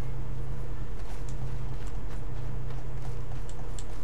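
Horse hooves clip-clopping at an even walking pace over a low, steady hum, with no talking, in the video game Red Dead Redemption 2.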